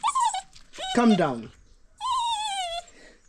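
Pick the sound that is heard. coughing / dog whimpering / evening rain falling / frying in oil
dog whimpering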